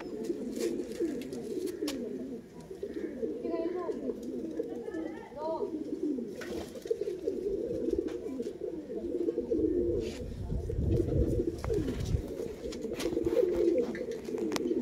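Soft, low cooing of a champion racing pigeon at a loft repeats steadily, close by, with a voice talking over it and faint rustling in the background.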